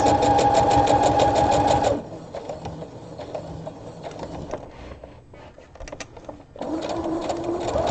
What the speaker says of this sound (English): I'm just sewing gently over the pins